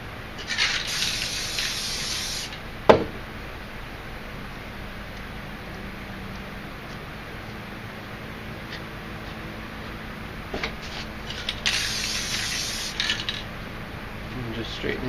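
Two short hissing bursts of clear coat spray paint, one at the start and another near the end, sound close by in a warm shed, separated by quiet handling noises and a sharp knock.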